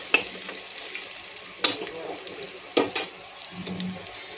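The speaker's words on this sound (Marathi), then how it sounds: "आता आपला कांदा भाजत आलाय।" Chopped onion frying in a mix of ghee and oil for a vegetable pulao, a soft steady sizzle with a few sharp clinks of a spoon stirring the pan.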